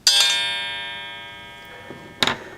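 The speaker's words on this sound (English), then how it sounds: "So this sound is the ding or the gong of the cuckoo." A cuckoo clock's gong strike rings out bright and metallic with a long, slowly fading harmonic tone, then a second sharper strike near the end.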